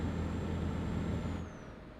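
Truck air brake in Euro Truck Simulator 2, a loud continuous hiss over a low engine rumble that fades in its last half-second.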